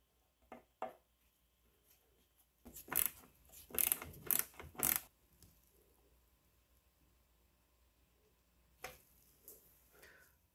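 A ratchet tightens a bolt used as a plug in a BMW E46 intake manifold, giving a handful of short, close clicking bursts in a quick cluster, then a lone click later in a quiet workshop.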